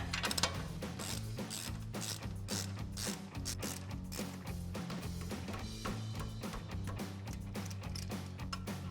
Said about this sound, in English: And we're going to tighten these down with our 24mm socket on our ratchet.